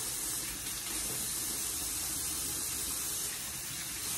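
A kitchen tap runs steadily over red chili peppers being washed before blending. The gushing, splashing water stays close and constant throughout, with no talking.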